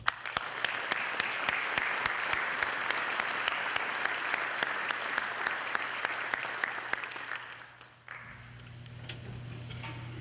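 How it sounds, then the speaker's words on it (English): Audience applause for veterans at a 2015 Veterans Day ceremony in Lynn, a sustained round of many hands clapping in a large space that fades out near the end. "thank, once again, all the veterans who are here today with a round of applause"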